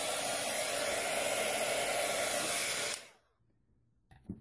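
A hair dryer blows on wet paint on small craft pieces, a steady loud broadband whoosh for about three seconds, then it cuts off abruptly, leaving near silence with a faint clunk at the end.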